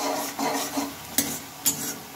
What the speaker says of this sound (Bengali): এবার একটু এটাকে লাল লাল করে ভেজে নেব